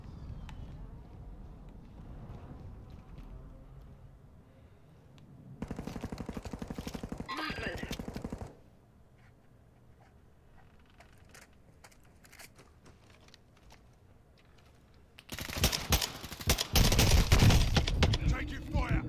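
Gunfire in an online shooter video game, two loud sustained bursts of rapid automatic fire separated by a quieter stretch of distant shots and rumble, with a voice speaking now and then.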